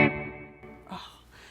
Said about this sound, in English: And reverb all the way up, and this is a digital reverb.